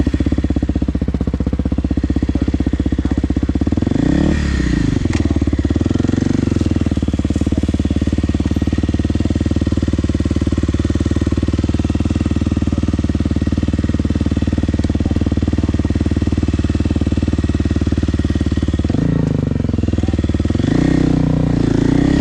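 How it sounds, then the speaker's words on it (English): A 2023 Kawasaki KLX300 dirt bike engine runs loud and close, a steady buzzing single-cylinder drone with brief revving swells near the start and end, no talking over it. "I'm on a 2023 Kawasaki KLX300."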